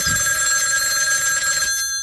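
A telephone bell rings loudly for a voicemail call, one sustained shrill ring that cuts off abruptly near the end.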